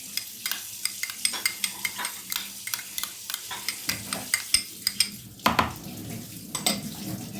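A spoon stirs a filling mixture bound with a big spoonful of mayonnaise in a bowl, giving a steady run of close, sharp clinks and soft wet scrapes with a louder knock near the end.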